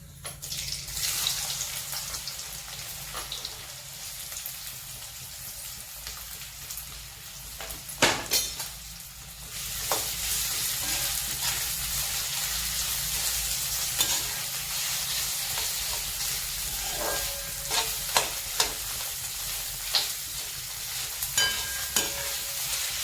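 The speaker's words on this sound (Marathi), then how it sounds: "आपण याच्यात आता हा चिरून घेतलेला बटाटा आणि मिरची घालत आहोत" Chopped potato and chili going into hot oil with cumin in a pan, a continuous sizzle and fry broken by stirring scrapes and clatters, with a stronger burst around the middle; no talking.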